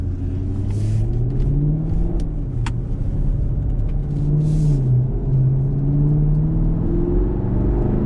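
A 2017 Camaro 2SS convertible's engine hums steadily and rises in pitch as it accelerates to about 3,000 RPM, a continuous close rumble with the revs climbing and easing in waves.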